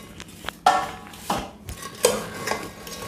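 Cooled milk buns are dropped into sugar syrup and mixed, with a few distinct clinks and scrapes of a spoon against a metal vessel, close up and irregular, with no voices.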